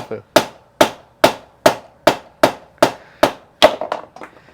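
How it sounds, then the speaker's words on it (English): A broken mallet strikes about nine times at a steady, even pace, each blow a sharp, loud, close crack, followed by a quick flurry of lighter hits at the end. "I'm gonna use Dad's trusty broken mallet."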